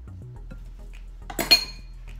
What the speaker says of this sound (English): I'm actually gonna switch to using my spatula to combine these.